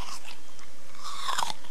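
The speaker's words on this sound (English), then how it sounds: "All I do is munch on some leaves" Close, loud crunching and biting, like munching on leaves, comes as a few short crisp bites grouped together with no talk.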